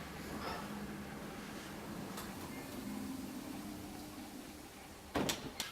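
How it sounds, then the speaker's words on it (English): An office door with fingerprint-recognition access is opened in a quiet indoor space, giving a soft, low mechanical hum followed near the end by a couple of sharp clicks and clacks. "now I am opening the door, so I can access my offices"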